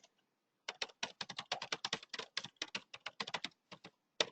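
Quick bursts of typing on a computer keyboard, a rapid run of close, crisp key clicks with short pauses, heard alone in a quiet room.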